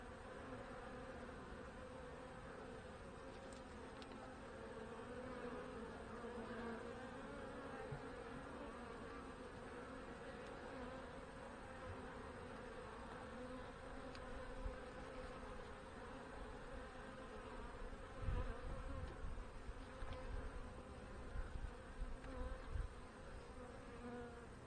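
Honey bees buzz around an opened hive during an inspection, a dense, continuous droning hum throughout, with a few soft handling knocks toward the end.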